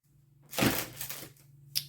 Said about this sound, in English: And let's emboss it.